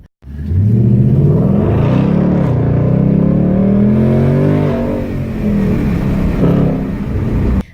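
A 2019 Ford Mustang GT with a Roush axle-back exhaust revs loudly and continuously, the deep engine roar rising and falling in pitch for several seconds with no other sounds.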